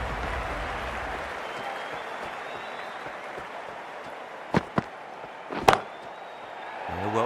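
A stadium crowd in the Cricket 24 video game cheers and applauds a six struck deep into the stands during a PSL final, a broad steady roar that fades gradually, broken by a few sharp thuds near the end.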